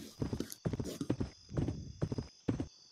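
Horse hooves in the Roblox game Westbound, clopping in short rhythmic bursts separated by brief gaps, fairly close and clear.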